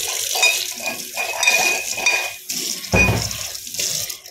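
Water sloshes and splashes as a stone mortar holding leftover crushed rasam spices is rinsed and its contents poured into a pot, with clinking of utensils close by.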